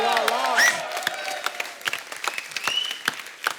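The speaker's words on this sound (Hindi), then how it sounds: "एक बार जोरदार तालियां हमारे मेहमानों के लिए।" Studio audience applause for guests on a Hindi talk show, a dense burst of clapping that swells near and loud at the start, then continues in scattered, uneven claps with a host's voice heard briefly over it.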